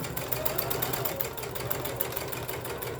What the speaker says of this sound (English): then I'm sewing down that diagonal line